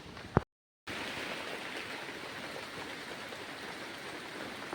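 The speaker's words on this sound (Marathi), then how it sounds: "पावसाने जोरदार हजेरी लावली" Heavy rain pours in a steady broadband hiss after a brief cut, continuous and close, like a downpour heard from shelter under a tree in the Konkan countryside.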